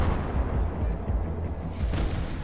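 A 76mm naval gun on the F543 Albatros patrol boat fires high-explosive shells in War Thunder, a heavy, rumbling barrage of booming reports blending into continuous low thunder, with a sharper blast near the end.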